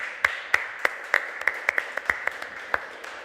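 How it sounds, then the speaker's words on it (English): A small audience claps for the team on stage at an AI summit: about a dozen sparse, distinct handclaps in an uneven rhythm, fairly faint and spaced out. "How about a little applause for the team?"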